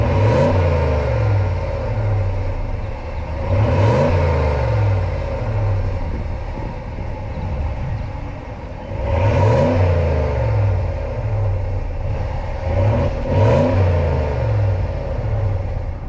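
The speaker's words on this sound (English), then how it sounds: "The exhaust is just loud enough to hear it a little bit when accelerating, but there's no drone and it's never annoying." A Ram 1500 pickup truck with a Hemi V8 accelerates, its exhaust note rising and falling in repeated loud revving surges over a steady low rumble, heard close up with no speech.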